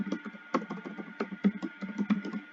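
Fingers tap steadily on a computer keyboard while a Zoom meeting is being set up, a quick, uneven run of close, crisp keystrokes with no voices.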